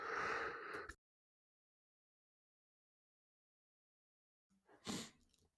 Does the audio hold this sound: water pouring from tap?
no